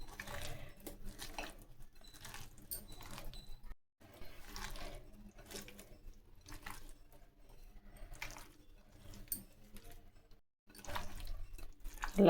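Water drips and trickles from cleaned anchovy fish, rubbed with turmeric and salt, as they drain in a strainer: soft intermittent splashes and drips at close range, with brief pauses and no talking.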